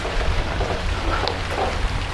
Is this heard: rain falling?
yes